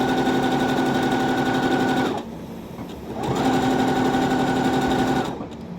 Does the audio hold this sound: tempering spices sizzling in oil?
no